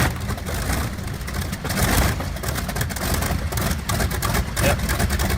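A Wright R-3350 radial aircraft engine from a B-29 runs at a tractor pull, giving a loud, rough, continuous low roar that pulses slightly in strength with no clear breaks.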